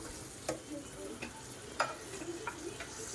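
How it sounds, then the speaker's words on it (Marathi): Two chopped medium tomatoes sautéed with turmeric in oil, with faint spoon stirs and soft taps over a gentle, quiet sizzle. "टोमॅटोला देखील थोडंसं आपल्याला परतवून घ्यायचं म्हणजे टोमॅटो पण थोडंसं सॉफ्ट होईल"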